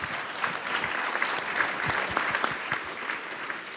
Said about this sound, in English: If we could all just give them a round of applause.